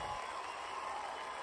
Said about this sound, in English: Please join me in one last round of applause.